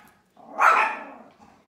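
A single dog bark, sharp and fairly close, followed by a softer short yelp.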